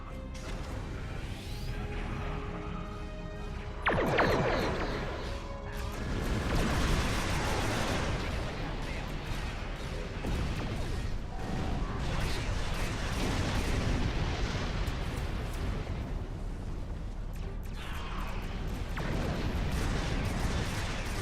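Starship weapons fire and explosions in a Star Trek Online space battle against Klingon attack ships at Starbase One: dense, continuous blasts, crashes and rumbling barrages, loud and layered throughout with no pauses.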